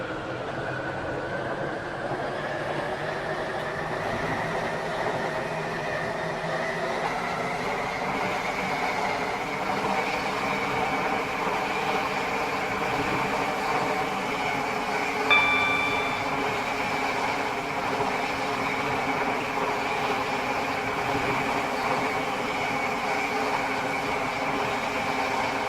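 A Stepford County Railway train on the Waterline service to Greenslade runs steadily in the video game, a continuous mid-level rumble and hum with a faint brief beep midway, no voices.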